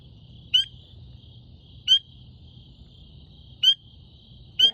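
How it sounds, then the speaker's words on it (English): Near 6AM in the Pocono Mountains a frog calls loudly and close. Four sharp calls come every couple of seconds over a low, steady outdoor rumble. "That is a freaking loud frog."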